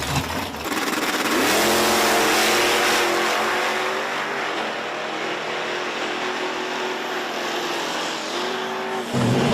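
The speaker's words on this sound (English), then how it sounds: "Got the Triumph here in the right lane going up against Mike Kramer" Drag race cars at Virginia Motorsports Park, a Triumph in the right lane, blast off together with a loud roaring launch and climbing high-revving engine notes that fade slightly as they run, ending on a sharp new burst.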